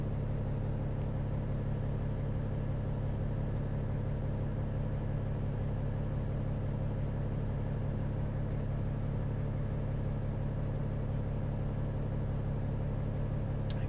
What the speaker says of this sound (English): Feed trucks.